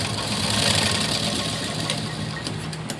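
A blouse neckline being stitched on a sewing machine, its close, steady motor hum and fast needle chatter running continuously and fairly loud throughout.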